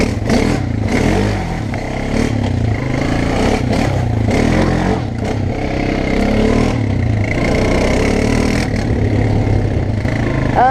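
A Honda dirt bike engine roars at wide open throttle through a mud pit, a rough, sustained rev with surging and clattering, loud and close throughout, with no talk.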